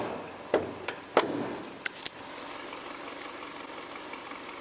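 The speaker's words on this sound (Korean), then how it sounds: "이 정도로 굉장히 정숙한 엔진 소음을 만나보실 수 있는 차량입니다" A used Hyundai YF Sonata Y20 engine idles with the hood being shut: several knocks and clunks come first, then a quiet, steady low idle hum continues.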